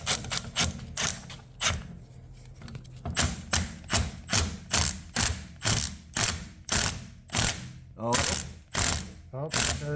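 Rapid ratcheting clicks from a hand tool pulling a bearing during a Toyota AE86 differential rebuild, repeated in quick bursts with short pauses, close and fairly loud, with a few thuds mixed in.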